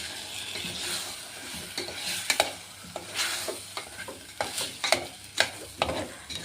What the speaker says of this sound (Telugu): బెల్లం కరిగే వరకు కలుపుకుంటూ అడుగు అంటకుండా చూసుకోవాలి